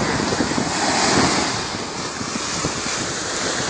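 Ocean waves wash in at Seacrest Beach, Florida, a broad, continuous roar of surf mixed with wind buffeting the microphone, with no voices.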